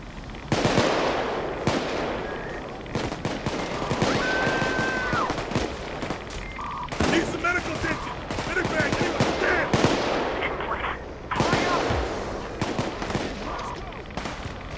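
Rapid gunfire in the heist video game Payday 2, with dense bursts of automatic shots that keep going almost without a break and a few louder volleys standing out, while voices are heard now and then under the shooting.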